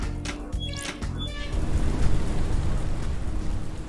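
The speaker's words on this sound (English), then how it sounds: "That should flush the drains." Drains flushing in the video game Paradise Killer: a few metallic clanks and tones give way to a sustained loud rushing, gushing water roar, with no talk over it.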